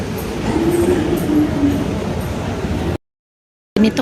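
A passenger train in Riyadh rolls along with a steady low rumble and a faint whine, heard from inside the car. The sound cuts out briefly near the end, then resumes.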